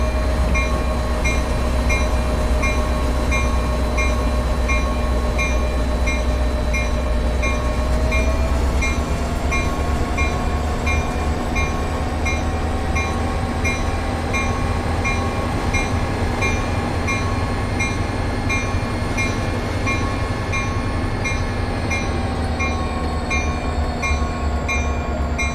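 A train in Train Sim World eases toward a stop with the throttle at idle and the service brake applied: a steady, loud engine drone and rolling rumble with tonal hums that shift in pitch partway through, no voices.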